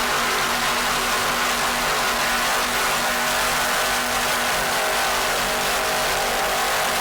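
Thousand-horsepower Mercury inboard engines on offshore racing boats in a Superclass race off Sarasota give a steady, loud, dense roar that holds for the whole stretch with no pauses.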